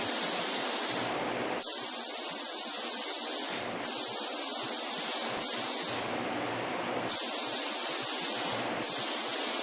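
A spray gun lays the third and final coat of paint over the bodywork of a 2011 Ford Taurus under front-end collision repair from a deer strike. It gives loud, close bursts of steady hiss, pausing briefly between passes, with no talk.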